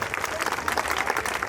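A crowd at a housing society Navratri Garba festival claps for an honored guest, a brief, dense burst of applause with voices mixed in.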